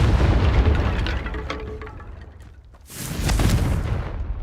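Confringo fire spell from Hogwarts Legacy bursts with a loud, broad blast that fades into a quieter lull, then a second sharp explosive boom erupts and rumbles on, alone without any talk.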